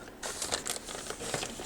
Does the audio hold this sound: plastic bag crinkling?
yes